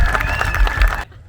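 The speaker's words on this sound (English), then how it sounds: "Ladies and gentlemen, let's have a massive round of applause." Arena crowd at a live motorbike skills show applauding and cheering for an Enduro and Tenere rider, dense and loud clapping that cuts off abruptly near the end.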